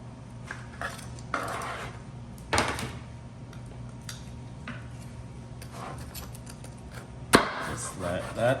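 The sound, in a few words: knife chopping oven-baked jerk chicken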